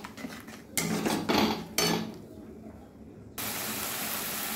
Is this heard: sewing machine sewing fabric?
no